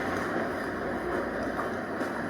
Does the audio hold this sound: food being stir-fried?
no